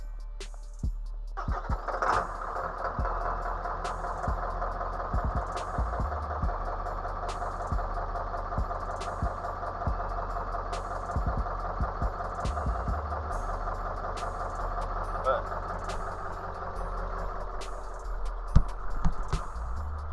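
An old truck engine fitted with injectors cranks and catches, then settles into a steady, rough idle with a rhythmic rattle and low rumble that runs close and loud for about twenty seconds.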